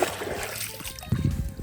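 Water splashes and sloshes around someone wading waist deep outdoors, with a soft trickle at first and a couple of heavier, closer splashes near the end.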